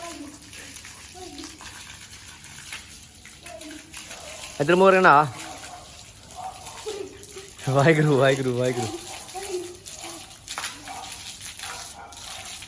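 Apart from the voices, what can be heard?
child being bathed with water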